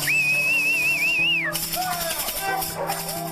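A clear, wavering melodic whistle rings out in drought-stricken rural New South Wales, then breaks off into a hissy, noisy stretch with fainter whistled glides and a low background hum.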